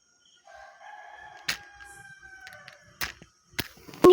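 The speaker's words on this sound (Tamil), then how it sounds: "ஒரு சேவல் பக்கத்து வீட்டில் கூவிட்டே இருக்குங்க" A rooster crows faintly from a neighbouring house, its call drawn out over a quiet background, broken by a few sharp close knocks and clicks.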